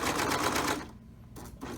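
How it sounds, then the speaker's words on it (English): A serger stitches a t-shirt neckline piece in a fast, buzzing whir that runs steadily, then cuts off briefly and restarts near the end. "I insert the piece here onto my serger, and I will serge without stretching anything"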